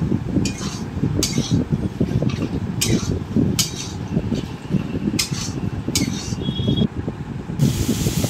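Mutton mince fries with spices in hot oil for a kima curry, a steady close sizzling hiss punctuated by brief metallic scrapes and clatters from stirring in the pan.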